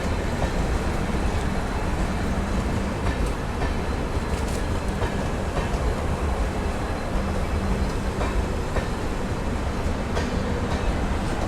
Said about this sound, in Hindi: ये है सिलाइदा Bikaner special express, Duronto express से, जो कि बीकानेर से आ रही है